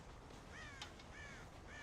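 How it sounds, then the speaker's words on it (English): Crows caw in a few harsh, repeated calls over a steady outdoor ambience with a brief sharp click midway, set on a farm with a corn silo in the video game Red Dead Redemption. "God damn crows!"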